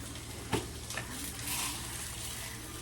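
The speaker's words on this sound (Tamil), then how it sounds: "இப்போ அளவோட வந்து வெந்தயமும் வந்து போட போகிறேன்" Fenugreek seeds dropped into hot oil in a pan while making a Tamil cluster-bean kuzhambu, a soft steady sizzle with a brief clatter near the start, faint and alone.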